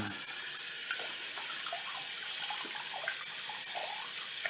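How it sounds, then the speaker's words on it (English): Running tap water rinses soap off a cleaned gun part, a steady splashing hiss of water flowing into a sink, close and continuous with no talk. "Rinse off that soap."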